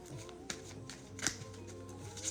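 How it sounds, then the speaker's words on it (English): Kipper cards being shuffled during a live card reading, soft riffling and sliding with a few sharper snaps, close and quiet, with no talking. "I'm going to shuffle this Kipper."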